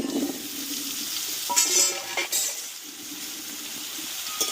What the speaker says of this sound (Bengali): দিয়ে তেলটা একটু আমি আমটাকে ভেজে নেব